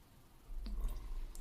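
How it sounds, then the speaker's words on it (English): A dash of water drips into a glass of Mackmyra whisky with a soft, brief, close splash and trickle, quiet and alone. "I'm just going to add a dash of water to this as well"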